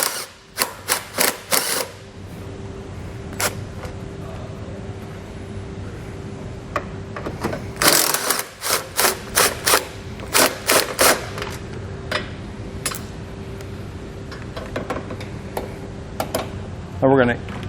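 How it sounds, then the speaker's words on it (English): Bolts come off the bumper beam of a 2020 Toyota Corolla hatchback in loud bursts of rapid mechanical rattling from a power tool. The bursts are separated by pauses and sit over a steady low hum close by. "We're actually going to remove the bolts and remove the whole bumper beam itself."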